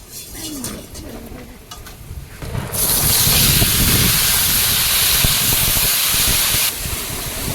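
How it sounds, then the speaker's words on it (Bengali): Pumpkin dropped into a kadai with a little hot oil: after a brief quieter stretch of faint clinks, a sudden loud hissing sizzle erupts and holds strong, easing only slightly toward the end. "কড়াইতে সামান্য একটু তেল দিলাম দিয়ে এইবারে কুমড়োটা চাপিয়ে দেবো"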